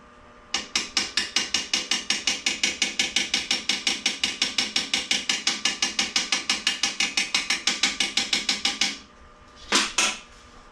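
Rapid, steady blows of a cheap hammer on stainless steel car trim, dozens of evenly spaced sharp taps close by, stopping briefly before a final couple of strikes.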